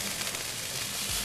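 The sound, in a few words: ginger frying in a pan with balsamic vinegar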